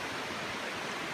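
Graham Creek flows through a forest canyon in Idaho's Coeur d'Alene National Forest, giving a steady, dense rush of water that fills the whole moment with close, even hiss and no voices.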